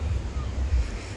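Waves at Baga Beach in Goa make a low, rolling rumble of surf mixed with heavy wind buffeting the microphone, loud and continuous over a short stretch.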